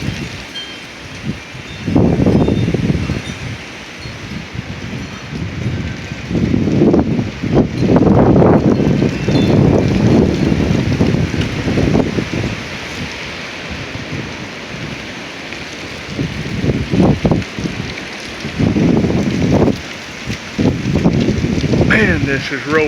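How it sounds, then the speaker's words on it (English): A windstorm in northern Oklahoma roars in long, heavy gusts that swell and fade, loud and close with a rushing, rain-like hiss, and a voice speaks briefly beneath the din. "Man, this is roaring."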